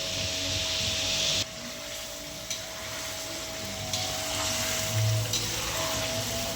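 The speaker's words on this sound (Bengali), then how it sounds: "এইভাবে আমি ফ্রাই করে নেবো হালকা" Chicken frying in a pan over medium to high flame, a steady close sizzle with occasional stirring scrapes and brief shifts, no talk.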